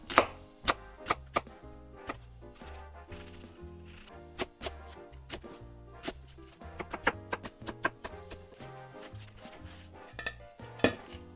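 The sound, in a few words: knife chopping onion into 1 cm cubes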